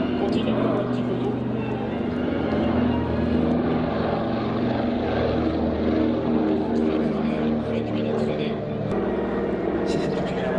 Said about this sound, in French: L'hydroplanage de la machine est assez spectaculaire.